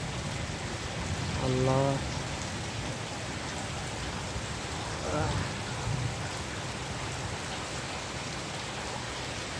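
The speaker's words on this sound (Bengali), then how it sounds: "অনেক বৃষ্টি হচ্ছে।" Heavy rain falls steadily at night in a dense, continuous hiss, and a voice speaks briefly over the downpour twice.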